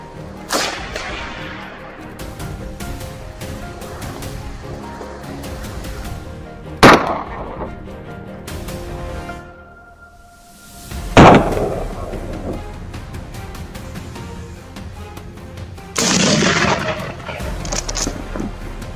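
Rifle fired at wild boar during a hunt: two sharp, loud gunshot cracks several seconds apart, each followed by a ringing tail, over outdoor background noise and movement.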